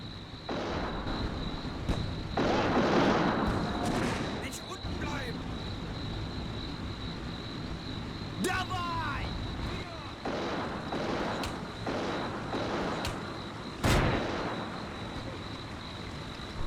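German mortar fire in the World War II strategy game Combat Mission: Barbarossa to Berlin, heard as several dull distant booms and crumps spread through the clip over a steady noisy battlefield background, with someone talking in places.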